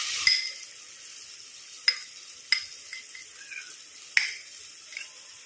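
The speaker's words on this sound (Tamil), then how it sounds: "தக்காளி நல்லா வதக்கிடலாம் கரண்டியை வச்சு." Tomatoes being sautéed in a pan and stirred with a ladle, a faint soft sizzle broken by several sharp scraping clicks of the ladle against the pan, no voices.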